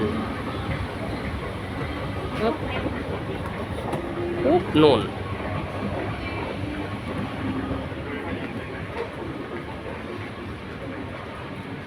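A steady rumbling roar of an underground train running through a deep tunnel, with rattling clatter; brief speech in Thai is heard over it.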